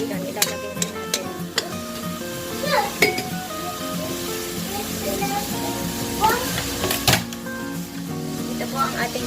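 Bihon rice noodles stir-fried in a pan, with a soft sizzle under repeated metallic clinks and scrapes of a spatula stirring, close by and fairly busy throughout.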